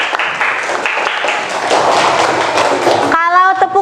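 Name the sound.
classroom applause for a student group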